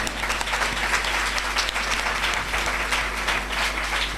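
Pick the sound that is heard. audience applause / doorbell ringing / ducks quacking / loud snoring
audience applause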